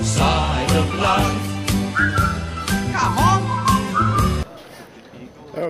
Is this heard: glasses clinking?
no